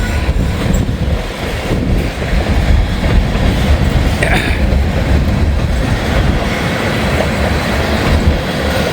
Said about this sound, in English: It sounds like a stuck brake on this empty ethanol load here.